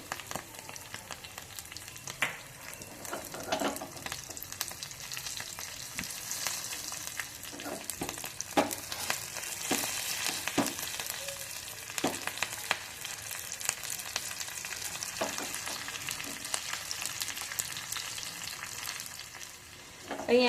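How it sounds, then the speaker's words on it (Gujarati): Green chillies and curry leaves fry in about a spoonful of hot oil in a small tempering pan, producing a steady crackling sizzle dotted with sharp little pops and spits throughout. "જો આપણું તેલ થઈ ગયું છે તેમાં લીલા મરચાં અને લીમડો ઉમેરશું"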